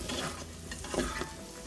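Chorizo and onions frying in a Cookeo cooker, a dense, steady sizzle close by with a few soft stirring scrapes rising over it.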